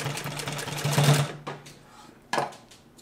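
A Consew 229 post bed triple feed sewing machine runs a burst of stitching at a long stitch length, steady and close with a hum, then stops, followed by a short second run.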